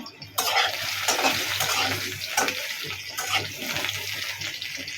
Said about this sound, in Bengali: এই যে আলুর দমের জন্য আলুটা ভাজতে নেওয়া হইতেছে